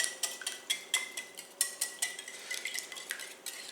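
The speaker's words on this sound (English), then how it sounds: "First beat down on the yolks to break them up." Egg yolks are beaten in a bowl with a whisk, a quick run of rhythmic metallic taps and clicks, close and fairly quiet, with no speech.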